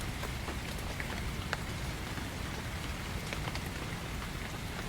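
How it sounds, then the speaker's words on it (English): Rain falls steadily onto a thick, leafy forest canopy, a dense, constant patter with scattered brighter drops, close and even throughout, with no voices. "the rain falls onto the thick, leafy canopy, creating a gentle, constant patter as it makes its initial contact"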